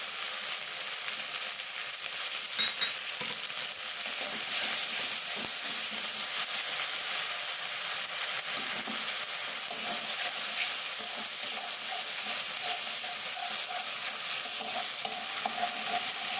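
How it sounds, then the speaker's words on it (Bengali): Spice paste with tomato paste, over a tempering with asafoetida for a duck egg and cauliflower curry, fries in a pan with a loud, steady sizzle and hiss while occasional stirring scrapes sound close by, without speech. "মশলাটা ভালো করে কষিয়ে নিচ্ছি"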